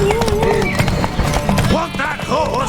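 A horse in The Witcher 3 with hoof clops and whinnies in a race, heard close under loud overlapping voices and tonal calls.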